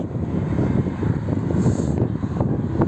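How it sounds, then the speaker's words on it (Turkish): Wind buffets the microphone in a steady low rumble, gusting slightly stronger partway through. "İyi rüzgar var ha."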